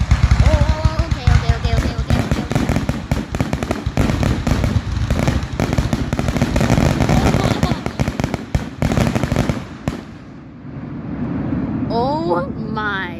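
Fireworks at the end of a display: a dense, loud barrage of crackling bursts and pops for about ten seconds, then falling quiet with faint voices and whistling.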